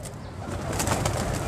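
Several pigeons coo in a trapping loft, a soft continuous murmur of overlapping calls that swells slightly louder toward the end, with no talk over it.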